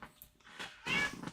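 A house cat meowing close by in a couple of short, soft cries, the second louder and more drawn out, within a brief span.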